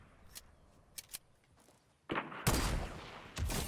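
Gunfire in the Fortnite video game: a few faint, scattered shots, then loud, close bursts of rapid shots that come in clusters, with no voice over them.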